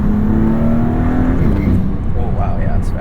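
Up close, a 2022 Maserati MC20's engine revs hard under acceleration, its rising pitch swelling then easing, while people talk over the roar.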